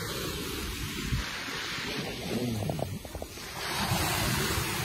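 Surf washes in at Jaywick Beach, a steady rush of breaking waves mixed with heavy wind buffeting on the microphone, loud and continuous.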